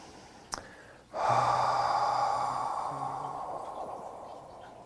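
During a qigong breathing exercise, a short inhale is followed by a long, soft whispered exhale for the shen healing sound, close and breathy, slowly fading.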